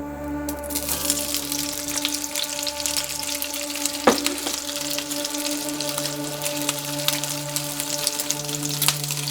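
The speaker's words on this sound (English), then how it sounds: "Now we're gonna just stir fry the meat for a couple of seconds." Meat stir-fries in hot oil for chow mein, a loud close sizzle with crackling spatter and a sharp utensil clank, steady across the whole stretch over a low kitchen hum.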